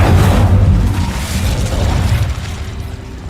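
Incendio fire spell cast in Hogwarts Legacy, a loud whooshing burst of flame with a deep rumbling boom that roars up at once and slowly fades over a few seconds.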